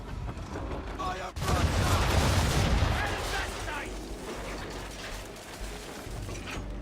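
Ship cannons firing in a naval battle video game, a heavy booming volley that rumbles and cracks on for several seconds against a constant wash of background noise, with faint game voices in the mix.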